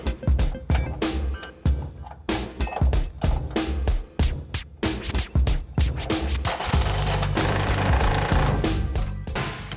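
Drilling holes in the steel frame rails of a 1970 Chevy Camaro RS/SS: loud, choppy bursts of power tool noise give way to a sustained harsh grinding roar close by.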